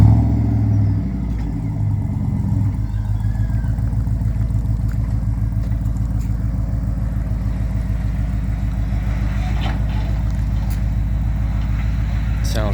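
A GMC Jimmy with an LS engine swap, a deep steady engine rumble that starts with a brief rev and then settles into a loud, even idle close by.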